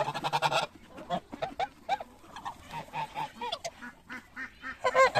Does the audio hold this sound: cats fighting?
no